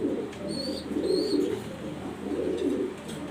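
A male Giraz pigeon coos in low, rolling phrases, repeated in two or three swells over a steady background with faint higher bird chirps.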